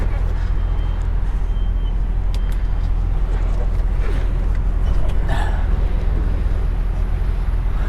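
A van maneuvering a trailer into position, with a loud, constant low engine rumble close by throughout and a few faint knocks and rattles on top.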